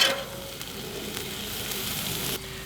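Steak and onions sizzle steadily on a Blackstone griddle while being tossed together, a continuous hiss with faint scraping touches, close and alone with no voices.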